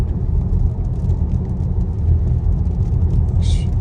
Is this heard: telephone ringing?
no